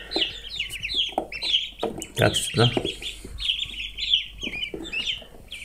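Baby chicks and ducklings about six days old, being carried outside, chirp and peep in rapid high bursts close by, with someone talking softly over them.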